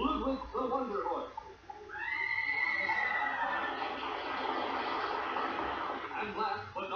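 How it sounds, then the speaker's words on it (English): A horse whinnies loudly with a rising, wavering cry lasting a few seconds, set among cartoon soundtrack audio with voices speaking around it, at a closing awards segment. "And the best horse, Ludwig the Wonder Horse."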